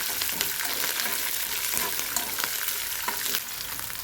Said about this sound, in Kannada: ಕಡಲೆಬೇಳೆ ಫ್ರೈ ಆಗಿದೆ ಇವಾಗ ಇದಕ್ಕೆ ನೋಡಿ ಹಸಿಮೆಣಸಿನ್ಕಾಯಿ ಸ್ವಲ್ಪ ಖಾರ ಬಿಡಬೇಕು